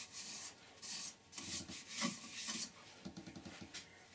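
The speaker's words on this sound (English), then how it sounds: "it doesn't take long with this sanding shader" Repeated rubbing and rasping strokes of sandpaper on a small wood-turned bowl, close by, in several short bursts with brief pauses between.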